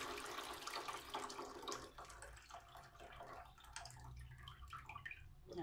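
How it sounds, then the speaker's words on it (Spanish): Excess rinse water splashes and trickles steadily as it is poured off while preparing pozole rojo, with some clattering and dripping toward the end. "Tiramos todo el exceso de agua."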